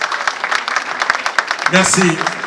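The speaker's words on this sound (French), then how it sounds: "Applaudissez fort en congrès." A graduation ceremony audience applauds in a brisk patter of claps that runs for a moment and then gives way to a person speaking over the fading clapping.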